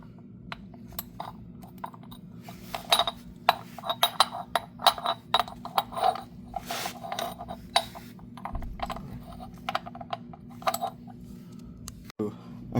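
A wrench with a small extension works a 2015 Toyota Sienna's oil drain plug, producing scattered metallic clinks and taps that come close and irregular over a low steady hum.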